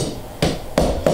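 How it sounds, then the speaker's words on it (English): Staples are driven through leather into a drop-in seat frame, giving three sharp, close thumps in quick succession. "staple it up, and get a staple"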